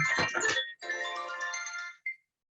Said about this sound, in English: Sorry, I forgot to turn off my phone.